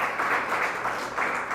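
A church congregation claps loudly in thanks to Jesus Christ, a steady wash of many hands applauding together throughout, close and full with slight swells.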